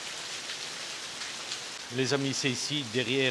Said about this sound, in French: la pluie, elle est quand même assez forte